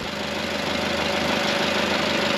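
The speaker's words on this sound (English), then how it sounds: "I'm pushing down on the gas pedal pretty heavy, and it's all the way down, and it's not revving up" A Jeep engine runs at a steady idle and fails to rise in pitch despite the pedal being pressed to the floor, a loud, close, unchanging drone with no speech.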